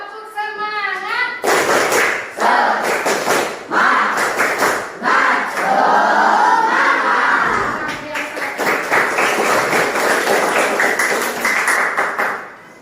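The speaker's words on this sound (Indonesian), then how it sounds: "Tepuk semangat." Schoolchildren in a classroom doing a rhythmic clapping chant, bursts of group claps and taps in patterned beats with children's voices joining in, loud and close, pausing briefly between rounds.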